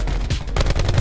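Dense, loud gunfire from the Call of Duty: Blackout video game, a continuous burst of rapid shots filling the whole moment with no pauses.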